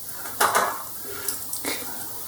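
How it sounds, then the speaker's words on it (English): Sprout bhaji mixture being spooned into little balls onto a baking tray, giving a few soft, close scraping and clinking contacts of spoon and tray, with two brief bursts separated by a quiet pause. "put them in little balls on the baking tray"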